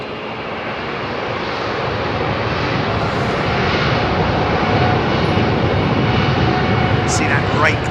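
A British Airways Boeing 787-10 Dreamliner roars past at London Heathrow Airport, a broad, loud, sustained jet rumble that builds and holds, with a voice talking over it.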